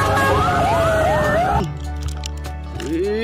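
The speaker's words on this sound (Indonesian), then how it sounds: "Wow, ada damkar teman-teman." A toy fire truck's siren wails in rising and falling sweeps, then cuts to a lower steady tone with a brief upward swoop near the end, close and loud.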